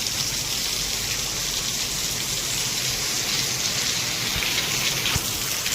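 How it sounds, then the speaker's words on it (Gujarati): Heavy monsoon rain pours down at a farmhouse, a dense, loud, constant hiss of drops beating on surfaces, steady throughout with a few sharper drips and no voices. "અને વરસાદ ફૂલ ચાલુ છે"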